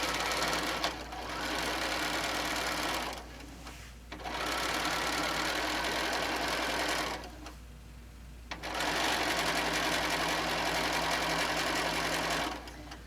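A sewing machine stitches a printed fabric panel for an apron, running in steady whirring bursts of about three to four seconds separated by brief pauses, close and clear.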